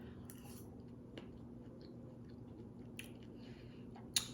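Soft, close chewing of a home-cooked meal with cream corn, quiet and steady with a few faint clicks of cutlery against a dish.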